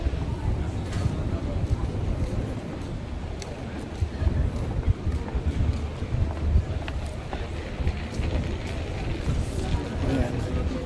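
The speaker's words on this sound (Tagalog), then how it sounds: "Medyo mahangin eh." Wind blows steadily outdoors, a continuous rough rush buffeting the microphone at moderate level for the whole stretch, with a voice faintly underneath.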